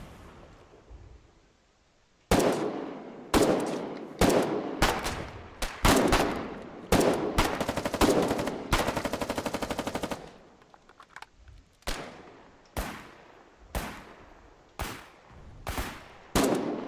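Infantry gunfire in the war game Foxhole, with sharp repeated rifle shots and a sustained burst of rapid automatic fire in the middle, loud and close, each report ringing out with a decaying tail and no talk.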